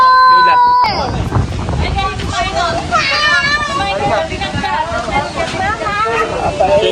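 Strong wind buffets the microphone outdoors in a backyard, a loud continuous rumble and gusting roar beneath lively overlapping chatter and voices throughout.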